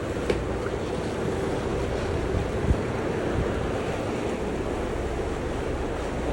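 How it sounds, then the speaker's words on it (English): Ocean breakers and surf heard from a boat at sea, a steady roar of waves mixed with wind noise buffeting the microphone, continuous and without talk. "Breakers out there."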